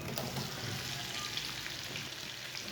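Cut lemons roasting with spices in a pan for a lime pickle, a steady close hiss and sizzle of frying that holds without break, with faint stirring scrapes.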